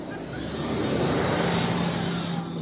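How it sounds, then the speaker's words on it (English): Bus passing on a crowded Jerusalem street, heard as a steady low engine rumble and road roar that swells slightly mid-pass and then eases, with no speech. "The bus is crossing."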